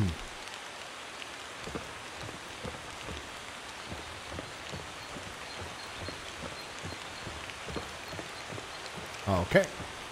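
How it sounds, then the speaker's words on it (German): Steady rain falls in the horror video game Daymare 1998, a continuous hiss of drops with soft patters and a brief louder clatter near the end. "Es regnet."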